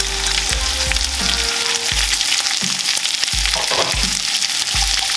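Whole onions frying in hot bacon fat in a pan, a loud, steady sizzle with crackling that carries through the whole stretch, with occasional low clunks of the pan or utensil.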